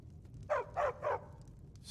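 Three short dog barks in the Skyrim video game, evenly spaced and moderately close, over a quiet low background hum.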